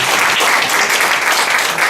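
Steady audience applause fills the whole stretch after a presentation, loud and dense with many hands clapping at once, and no talking rises above it.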